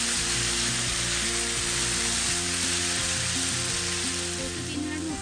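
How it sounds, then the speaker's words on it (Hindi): Vegetables frying in a pan for a cheesy bow tie pasta dish, giving a steady, close, loud sizzle that runs without a break and carries a low background tone underneath. "दो से तीन मिनट हो चुके हैं वेजीज को भी फ्राई होते हुए"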